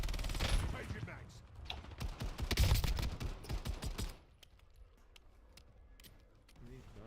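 Dense bursts of rapid automatic gunfire rattle loudly in a military shooter video game for about four seconds, then drop away to a quieter ambient stretch with faint scattered clicks.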